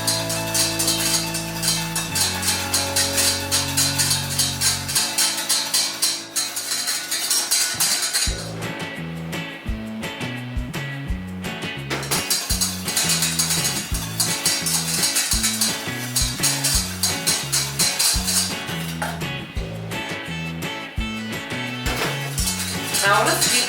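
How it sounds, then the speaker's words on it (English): A whisk clinks steadily against a pan while hollandaise sauce thickens, the metallic strokes continuous and close under loud background music. "we just need to keep whisking it for a little longer"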